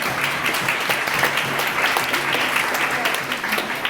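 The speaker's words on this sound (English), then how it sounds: "Give yourself a round of applause for doing this" Audience at a dance award ceremony applauding, dense and fairly loud clapping from a crowd that holds steady for several seconds in a large room.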